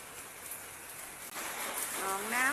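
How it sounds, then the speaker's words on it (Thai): Soft, steady patter of light rain with a continuous hiss, gently rising in the second half as a faint tonal sweep appears near the end. "เอาบรรยากาศฝนตกมาให้เพื่อนๆ รับชม"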